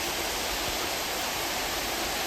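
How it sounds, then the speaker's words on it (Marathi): A river waterfall pours in a dense, unbroken broadband roar, steady and fairly close, with no voices over it. "ते धबधबा गावलो बघू शकतात"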